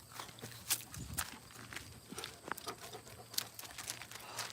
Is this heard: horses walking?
yes